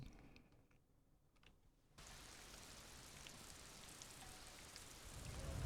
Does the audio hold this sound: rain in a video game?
yes